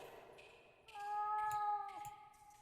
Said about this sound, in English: The cat seems to be behind this wall.